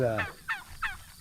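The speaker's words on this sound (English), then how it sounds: "Oh, we got turkeys. We got a turkey farm." Several turkeys on a turkey farm gobble in quick, rippling bursts, three or four calls in a row, fairly faint and somewhat distant.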